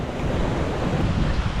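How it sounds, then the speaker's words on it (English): Small waterfalls on the Devils River in the Texas desert pour in a steady, close, broadband rush of tumbling water, with wind buffeting the microphone throughout and no voices. "Look at these tiny little waterfalls."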